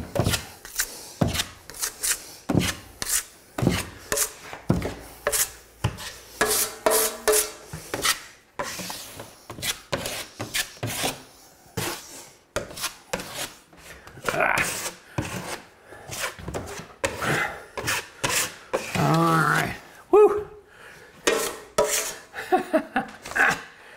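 Fast-setting drywall compound is spread with a knife to fill a wall repair, giving repeated rough scraping and rubbing strokes, close and loud, in busy uneven bursts.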